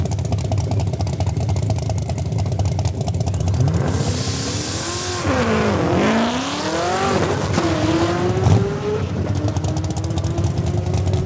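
A 2010 Chevrolet Camaro drag racing at Saskatchewan International Raceway in Saskatoon, its loud engine winding up through several gear changes in rising sweeps, with a roar from the strip all the way through.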